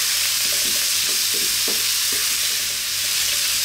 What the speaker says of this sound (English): Stand on this medium heat and stirring pretty much all the time now.